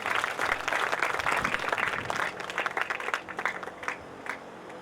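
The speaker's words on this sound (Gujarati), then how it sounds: "એ અહીં પહોંચે પહેલાં જ આપણે તાળીઓથી એમને વધાવીએ" An audience welcoming Kadri Bapu with applause, a dense burst of many hands clapping that starts strong, then thins into scattered claps as it fades toward the end.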